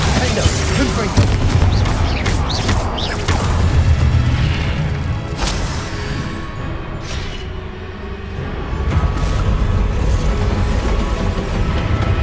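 Confringo blasting spell explosions in the Hogwarts Legacy video game, booming blasts amid dense combat noise with repeated impacts and crashes, loud and continuous throughout.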